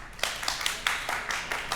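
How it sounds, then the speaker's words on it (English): Studio audience clapping to cast a vote, a brief burst of individual hand claps in an uneven rhythm, close and fairly loud, with no talking over it. "So you guys are gonna clap for the sentence was too harsh or not harsh enough"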